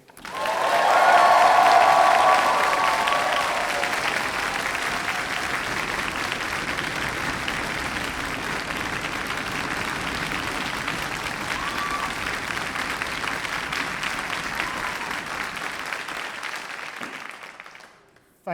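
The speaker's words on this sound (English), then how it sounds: "give them a very big cheer and a huge round of applause" A large audience at a University of Aberdeen winter graduation ceremony bursts into loud, sustained cheering and applause that peaks early and then holds steady for well over ten seconds before cutting off.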